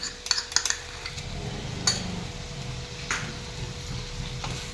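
Ginger garlic paste going into a hot pan for chicken curry with carrot, a faint sizzle with light clinks of a spoon against the pan, quiet and close, no talking.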